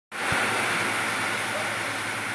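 Steady, loud rush of water gushing under pressure from a newly drilled 150-foot borewell, a constant broadband roar that starts abruptly after a brief thump and continues without a break.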